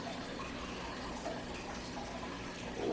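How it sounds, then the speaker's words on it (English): A maple and brown sugar glaze is poured over a ham, giving a soft, steady liquid pour and gush close up with no talking. "grab my glaze and just pour it all over the ham"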